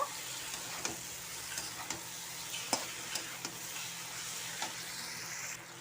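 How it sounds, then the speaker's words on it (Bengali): Broccoli curry with chopped coriander sautés in a pan, a soft continuous sizzle punctuated by a series of light spatula scrapes and taps at irregular intervals, close and fairly quiet. "কষিয়ে নেব।"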